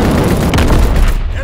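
V2 rocket launch and explosion in a video game, heard as a dense, loud rumble of booming, crackling blasts that fills the whole moment.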